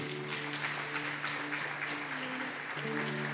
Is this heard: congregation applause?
yes